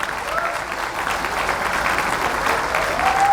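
An audience at an indoor event applauds steadily, with dense, close clapping that continues without a break for a few seconds and swells slightly toward the end.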